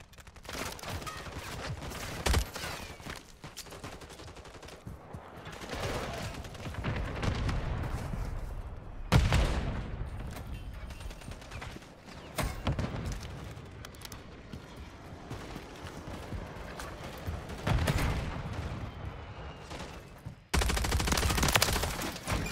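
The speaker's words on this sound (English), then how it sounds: "Call this VTOL in." Gunfire and heavy explosive bursts from a VTOL gunship strike in Call of Duty: Modern Warfare III, with steady loud rumbling fire over about twenty seconds and sharp blasts near 9 and 20 seconds.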